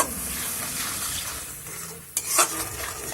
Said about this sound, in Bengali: মশলাটা থেকে যতক্ষণ না তেল ছাড়ে ততক্ষণ মশলাটাকে কষিয়ে নেব